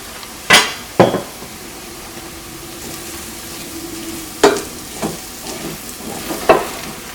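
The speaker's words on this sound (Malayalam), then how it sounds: "ഈ മല്ലിപ്പൊടിയും ഇതിൻ്റെ കൂടെ കിടന്നിട്ട് നന്നായിട്ട് മുരിക്കണം." Coriander powder roasting in curry gravy in a pan, a low sizzle broken by a few sharp spoon clanks against the pot and scraping stirs, close up with no talk.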